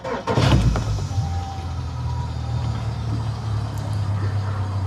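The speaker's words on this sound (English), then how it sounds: "We'll do a quick check start now of the engine and the cooling system" A jet ski engine on a superyacht is started for a check and settles into a steady, loud running rumble close by, following a brief burst at the start.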